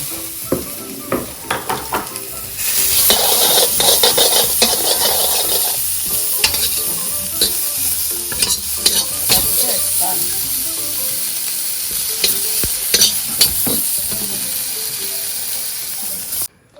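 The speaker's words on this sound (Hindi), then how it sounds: "थोड़ा सा ऑयल डालें आप और इसमें कैरेट्स डाल दें।" Carrots stir-fry in a little oil in a very hot wok for chicken chow mein: a loud, hissing sizzle swells after a few opening knocks and rattles, with repeated scraping and clanking of the spatula as it fades toward the end.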